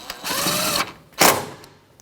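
A 10 mm socket snugs down the mounting bolt on a brake master cylinder of a Jeep Patriot. The clip has two bursts of close ratcheting, a longer steady run followed by a short sharp one.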